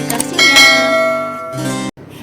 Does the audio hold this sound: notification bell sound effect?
yes